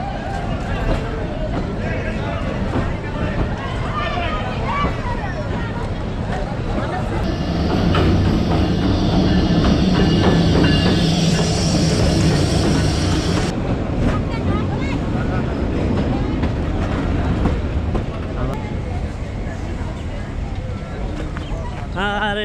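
A crowded North Bengal local train from Santahar to Lalmonirhat rumbles steadily with crowd chatter around, the roar swelling louder for several seconds in the middle before easing back.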